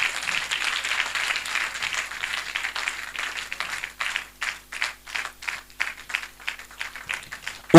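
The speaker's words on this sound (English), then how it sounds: "can we keep clapping for the Honorable Minister?" An audience applauds for a minister at the unveiling of a university centre of excellence, starting as a dense wash of clapping and breaking into rhythmic, pulsing bursts of clapping in unison.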